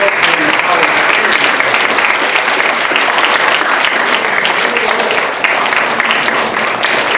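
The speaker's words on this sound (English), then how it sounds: "How about if we clap for the book buddy volunteers?" Loud, steady applause from an audience of children thanking book buddy volunteers, dense clapping sustained evenly throughout with no pauses.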